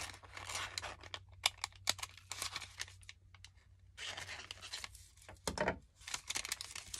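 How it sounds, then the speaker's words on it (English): Scissors snip through vellum paper in bursts of quick crisp cuts with short pauses between, close and fairly quiet, with some light paper rustling during a craft pocket project. "Cut down the sides first, and then cut a little to the right."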